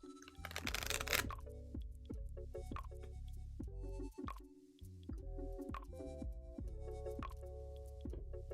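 A brief papery riffle of tarot cards being shuffled, followed by soft ticks and faint tonal music-like sounds in the background.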